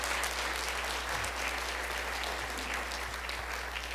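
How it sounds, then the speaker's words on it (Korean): Warm applause from a church congregation welcoming visitors to the service, a dense, steady wash of many hands clapping that carries evenly throughout without pause. "우리 자리에서 일어나시면 뜨겁게 박수로 환영하겠습니다"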